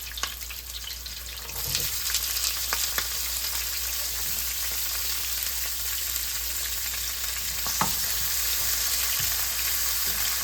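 Onions fry in hot oil with green chillies in a pan, a steady close sizzling hiss that grows fuller after the first couple of seconds, with scattered spatters and a few louder pops, no one talking.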